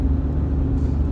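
Low, steady engine rumble of a car on the road towing a boat on a trailer, heading to a dam on the Gulf of Finland, a brief continuous drone with no voices.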